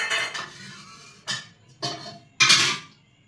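Metal containers of rice and dal are set one on top of another inside a pressure cooker, with several loud metallic clanks and scrapes coming close by in separate bursts.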